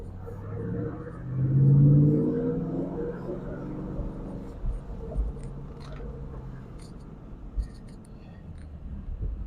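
Manual-transmission car on a dealer auction lot, heard from inside as it pulls away in gear, a rising engine whine early on easing into a moderate steady rumble with small bumps and clicks, close and fairly loud.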